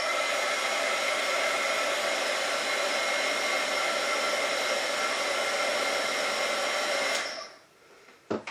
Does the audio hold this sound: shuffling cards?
no